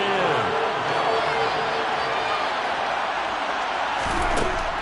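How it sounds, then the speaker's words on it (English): Steady roar of an American football stadium crowd during a Dallas Cowboys game, a loud continuous wash of cheering voices sustained throughout with no clear breaks. "Crowd getting in it a bit already."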